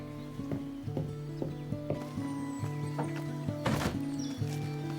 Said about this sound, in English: just the 2 horses then?